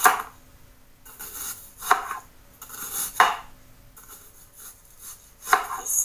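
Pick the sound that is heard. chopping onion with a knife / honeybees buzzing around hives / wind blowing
chopping onion with a knife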